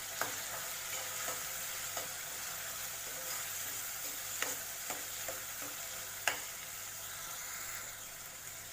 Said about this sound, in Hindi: इसको हम हाथ से क्रश करके डालेंगे अंदर थोड़ा सा। इसको मिक्स करेंगे अच्छे से।